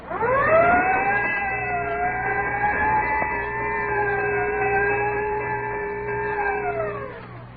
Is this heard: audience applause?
no